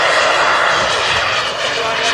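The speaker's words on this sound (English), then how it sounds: "Takeoff, power, fast down, and he rotates." Radio-controlled model jet aircraft engine powering up for takeoff at an air show, a loud steady turbine roar heard from nearby, with a commentator talking over it.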